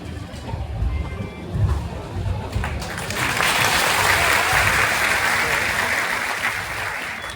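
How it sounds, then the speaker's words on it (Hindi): An outdoor audience of farmers and villagers at a public gathering breaks into loud sustained applause that swells, holds steady, then slowly fades, with brief talk at the start. "जोरदार तालियों के साथ"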